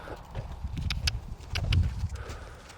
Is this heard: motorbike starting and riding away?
no